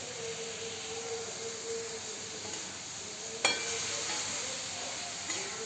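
Chillies and asafoetida sizzle steadily in hot oil in a pan for a South Indian ridge gourd chutney tempering, a soft continuous frying hiss with a sharp spatter or crackle midway and another near the end.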